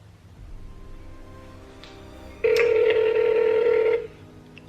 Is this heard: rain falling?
no